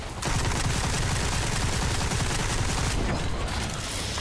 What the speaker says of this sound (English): I wonder if shooting with the AK is better.